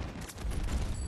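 Gunfire rattles in the Battlefield video game, a brief burst of overlapping shots heard at a moderate distance and fairly faint.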